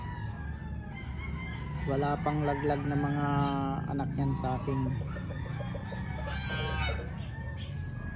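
A fighting rooster crows and clucks in a backyard gamefowl pen, two or three loud calls close at hand while someone talks over them.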